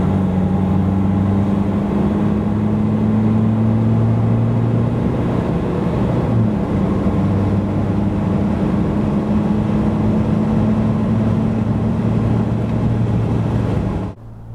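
A Ford Ranger Wildtrak 2023 pickup with the 2.0 EcoBlue diesel pulls from 90 to 140 km/h, giving a steady droning engine tone that climbs slowly under road and wind noise before cutting off near the end.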